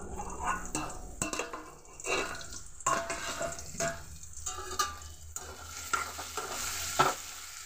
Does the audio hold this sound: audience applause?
no